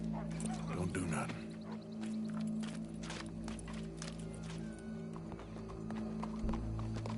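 Horse hooves clip-clop in the Red Dead Redemption video game, a run of uneven hoof strikes mixed with game ambience and a brief snort, while voices talk over the scene.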